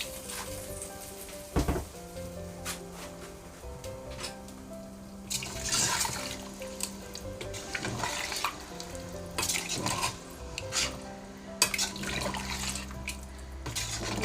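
Rice-soaking water being poured into a one-pot chicken biryani, with steady splashing and sizzling in the pot plus scattered clinks and knocks of utensils throughout, no voices.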